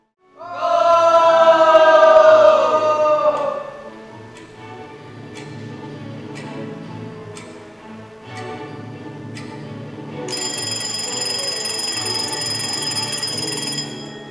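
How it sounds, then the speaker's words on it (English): An alarm clock ticking steadily, then a loud ringing bell, with a shrill electronic tone joining near the end; no talking. "In the hearing world, we use the alarm clock to wake up."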